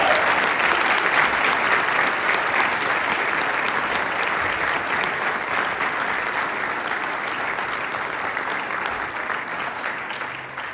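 A crowd at an Iowa political event claps loudly to welcome speaker Steve Deace, dense and steady applause running for about ten seconds and easing off slightly toward the end.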